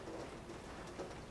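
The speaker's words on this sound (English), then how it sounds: "it's starting to rain outside." Rain patters steadily against a window outdoors, a dense, even pattering that stays moderately loud through the whole moment with no voices.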